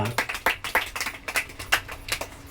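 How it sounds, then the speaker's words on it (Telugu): A church congregation at a Sunday service claps loudly: a dense, uneven run of sharp hand claps, close and busy, with a faint voice in the background. "చప్పట్లు కొడదాం జోరుగా."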